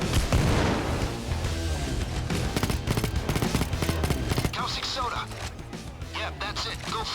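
Payday 2 gunfire plays out as dense bursts of automatic shots and heavy booms, loud and close, easing off toward the end while someone talks over the fighting.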